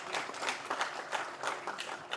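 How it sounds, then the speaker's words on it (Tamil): An audience at a film trailer event bursts into applause, a faint, dense patter of many hands clapping with no voices on top. "அதுக்காக ஒரு பெரிய கரகோஷம்."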